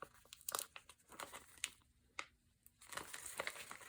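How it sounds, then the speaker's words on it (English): Backing being peeled off a cold-changing pink vinyl sheet for a craft cup project, close and quiet, with irregular crackling, crinkling and tearing sounds and short pauses between pulls, no talking. "And then peel the backing off."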